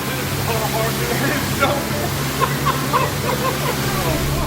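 Loud, continuous rush of water pouring and sloshing into a leaking car through a hole, with voices talking over the roar.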